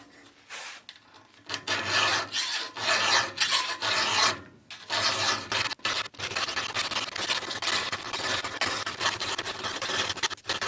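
An old chainsaw chain being sharpened tooth by tooth with a hand file, loud close rasping strokes in a steady rhythm with a few short pauses, no talking.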